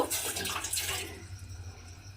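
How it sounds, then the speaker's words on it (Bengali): Measured water poured into a saucepan, a brief close splash and trickle that fades out over about a second. "এরম একটা সসপ্যান বসিয়ে দিয়েছি এবারে আমি এর মধ্যে দেব জল মেপে"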